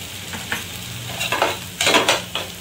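Red masala paste seasoned with salt and turmeric roasts in a pan for a Malvani mackerel curry. A soft sizzle is broken by several bursts of spoon-scraping and stirring, the loudest near the end, with no talk.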